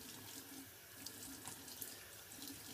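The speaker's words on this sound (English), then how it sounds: "I'm going to throw some warm water on my face here" Warm water runs steadily from a bathroom sink tap and splashes in irregular bursts as it is thrown onto a face before shaving, close and continuous with no talking.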